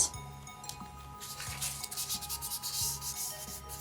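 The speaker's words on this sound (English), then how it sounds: "Just rub out any wee lines you maybe don't need." Close, repeated scratchy rubbing of an eraser on paper as stray pencil lines are cleaned from a drawing, in short rhythmic strokes with a faint clink, no voices.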